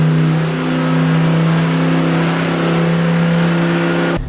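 Car engine with turbo issues revving steadily under load through the gears during a warm-up run with the RPM held set, a loud continuous drone close by that cuts off sharply at the end.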